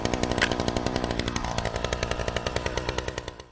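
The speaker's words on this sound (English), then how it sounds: "I used the pole chainsaw to cut through the thicker, woodier stems" A pole chainsaw cuts through thick, woody yew stems, its engine buzzing steadily nearby with rapid rhythmic chatter and a pitch that drops as the blade bites in, then fades out at the end.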